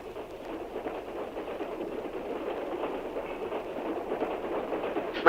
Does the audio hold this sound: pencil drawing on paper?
no